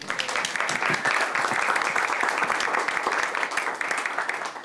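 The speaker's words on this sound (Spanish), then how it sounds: "doble aplauso" Conference audience applauding for a composer: dense, sustained clapping from a crowd, loud and steady for a few seconds with no pauses.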